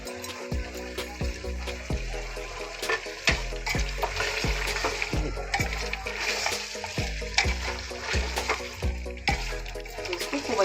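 Raw chopped onions go into a pan with beef tripe curry and fry, giving a steady sizzle broken by frequent scraping stirs and clinks of a spoon against the pan, close and moderately loud.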